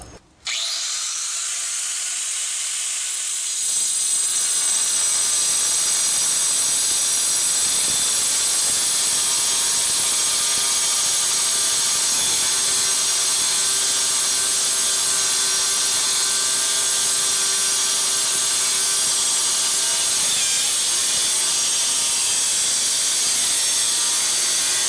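An angle grinder fitted with a Lenox Metal Max blade cuts through a bolt head under a Jeep Cherokee XJ, starting after a short quiet moment and then holding a loud, steady, high-pitched whine of metal cutting for about twenty seconds.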